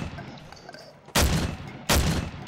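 Two loud, close gunshot bursts in a horror shooting game against Siren Head, each a sharp blast with a ringing tail, spaced about a second apart over faint ambient background.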